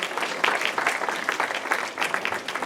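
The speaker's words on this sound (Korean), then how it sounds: "박수 해주시기 바랍니다." Audience applause in a school chapel during an Easter service, a dense steady patter of many hands clapping at close range for the whole stretch.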